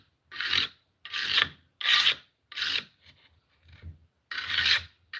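A blade is worked back and forth on a 200 grit sharpening stone, giving six rhythmic raspy strokes, close and fairly loud, with short pauses between them and no talking.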